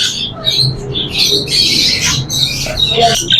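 Green ring-necked parakeets squawk loudly and repeatedly at close range in a bird shop, with harsh overlapping calls and no talk.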